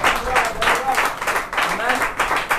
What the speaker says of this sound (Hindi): एक जोरदार ताली के द्वारा प्रभु को धन्यवाद देंगे।